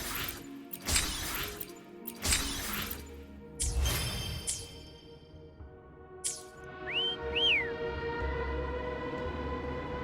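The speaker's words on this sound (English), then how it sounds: "Try whistling." Two quick rising whistle notes call a companion named Foam in the video game Wuthering Waves. They come late and sit fairly clear, after several sharp crashing impacts and over a low sustained tonal hum.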